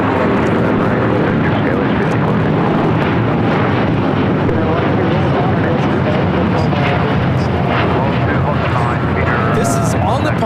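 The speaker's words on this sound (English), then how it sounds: "This is All Nippon Airways Flight 125 taking off to Tokyo Haneda on a 787-8 Dreamliner." An All Nippon Airways Boeing 787-8 Dreamliner roars on its takeoff run at LAX, a loud, continuous broadband jet rumble with wind buffeting on the microphone and a voice talking over it.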